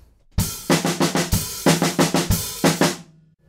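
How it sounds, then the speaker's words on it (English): Drum fill played on a full drum kit: a rapid, evenly spaced run of loud tom and snare hits in several phrases, each ending with a heavier accented stroke, played alone. "Going into the next section, there's a fill that sounds like this."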